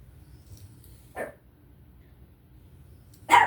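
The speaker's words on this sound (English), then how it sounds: "the dog came in, started barking" A household dog barks indoors, giving two short, sharp barks a couple of seconds apart against a quiet background.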